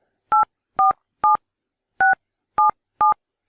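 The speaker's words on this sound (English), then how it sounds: "if I'm using the keypad, I can just dial the number" Six distinct DTMF tones from an iPhone keypad while a number is dialed, each a short clean beep separated by brief silences, the fourth after a slightly longer pause.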